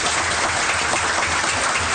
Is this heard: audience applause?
yes